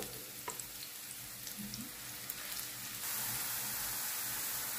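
Onion frying in a pan for shish barak filling, a soft steady sizzle with a few light clinks, growing slightly louder toward the end, with no talking.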